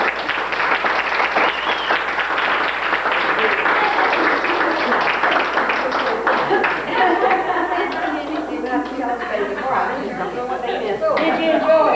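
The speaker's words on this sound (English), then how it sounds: "let's give him a round of applause" An audience claps for a performer in a room, a dense burst of applause that gradually thins out into scattered claps, cheers and crowd chatter, with voices talking over it.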